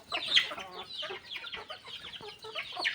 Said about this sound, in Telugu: పుంజులేమో పెట్టెల్ని పిలుస్తాయి మేతకి రమ్మని